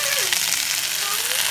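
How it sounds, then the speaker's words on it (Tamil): Capsicum and chopped green chilli frying in a pan for upma manchurian, a loud continuous sizzle close up with faint stirring through it. "இதை வந்து நல்லா ஃப்ரை பண்ணிக்கலாம்."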